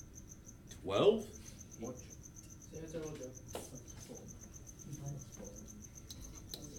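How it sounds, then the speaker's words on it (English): A cricket chirps steadily in a room, a faint, persistent high repeating trill running throughout, under a voice working through a math problem. "that cricket's been killing me here."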